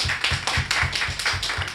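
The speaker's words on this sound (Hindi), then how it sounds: "एक बार तालियां बजाकर मन दें" Rhythmic audience clapping at a kavi sammelan poetry recital, steady claps in a repeating beat, loud and close with no voices over it.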